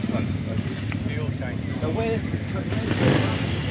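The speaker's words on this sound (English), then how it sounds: "So many motorbikes." Steady engine rumble of motorbikes passing at a motorcycle football (motorball) event fills the scene, loud and continuous, with a voice talking over the traffic.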